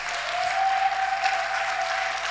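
A church congregation applauding together, a dense steady clapping from many hands that holds evenly throughout, with a faint tone ringing beneath it.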